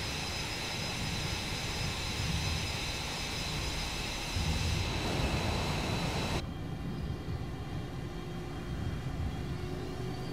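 F-22A Raptor fighter jet engine in Microsoft Flight Simulator, a steady loud roar with broad rushing noise that shifts in tone partway through, continuous for the whole stretch with no talking.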